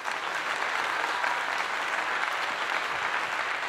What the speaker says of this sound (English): Next round of applause for that.